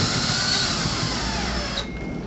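A power drill drives bugle head screws into a wall with a steady, loud whirring grind that shifts tone near the end of the brief run.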